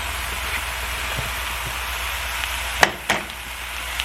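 Two pounds of ground beef sizzling in a pan with browned garlic and onion, a steady close hiss broken by a couple of sharp clacks near the end.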